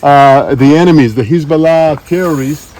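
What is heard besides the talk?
No distinct noise like a dog, phone or traffic.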